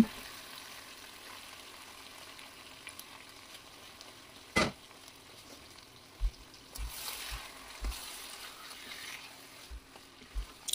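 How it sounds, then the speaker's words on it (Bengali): Chicken pieces added to a pan of well-fried spice paste for Bengali chicken kosha, with a sharp clatter followed by a soft, steady sizzle and intermittent stirring knocks, close, no talking. "মশলাটা ভালোভাবে কষিয়ে নিয়ে এখন আমি এই যে মাংসটা দিয়ে দিলাম"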